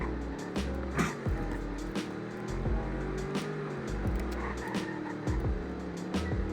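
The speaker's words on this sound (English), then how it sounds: "I think you can slide this car" A fast, affordable performance car is driven hard on a test road in Greenville, Wisconsin, its engine revving and shifting up close, with short bursts of tire squeal as it tries to slide.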